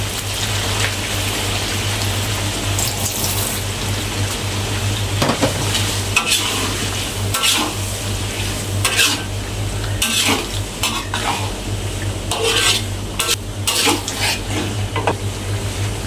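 Chicken pieces stir-fried in a pan with tomato sauce for Thai-style sambal chicken: a steady sizzle with scraping and clinking of a utensil against the pan, close and continuous with no talking.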